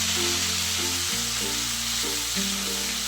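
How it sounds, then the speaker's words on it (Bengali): Turmeric paste fries with spices in a pan, giving a dense continuous sizzling hiss that runs the whole time beneath loud, tonal background music. "এরপর এর মধ্যে হলুদ বাটাটা দিয়ে একটুখানি কষিয়ে নিতে হবে"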